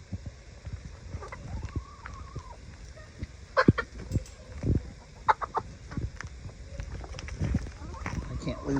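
Chickens cluck and squawk at a chicken coop in intermittent, moderately close bursts, with people talking over them.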